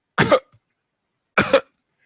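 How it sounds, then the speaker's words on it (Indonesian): Two short, dry coughs, about a second apart, close and clear in an otherwise quiet room. "Kemudian dia batuk dikit."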